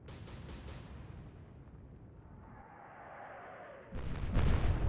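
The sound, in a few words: explosion on a warship in the Atlantic Fleet video game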